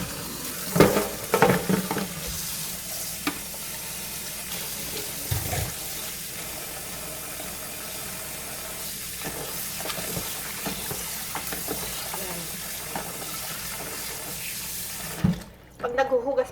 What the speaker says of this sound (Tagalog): Pag naghuhugas po kayo ng shrimp without salt, mas malinaw pa po dito sa banlaw ko po.